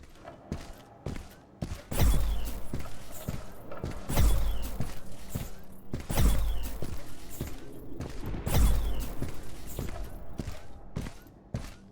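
Turrets fire bursts in the VR game Boiling Steel, heavy booming shots repeating roughly every two seconds with rapid clattering between them, loud and close in a corridor.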